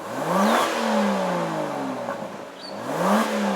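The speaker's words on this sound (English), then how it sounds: "Even though it doesn't have the crackles, it still makes a nice revving sound." Aston Martin DBS Superleggera, a 2020 model, revving in GT mode: two strong rising-and-falling engine revs, a loud climb near the start and another near the end, with a smooth steady idle growl between them.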